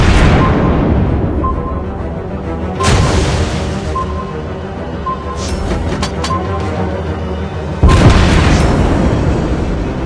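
Torpedo hits and explosions boom in the naval game World of Warships Blitz, with three loud heavy detonations spaced a few seconds apart, each decaying slowly, plus a short crackle of smaller bursts between them.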